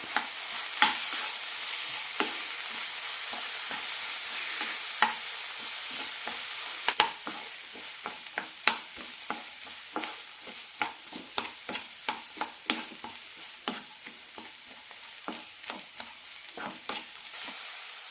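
Vegetable masala for bread samosa being mixed in a pan, with a steady hissing sizzle and a regular series of sharp spatula scrapes and knocks, close and clear.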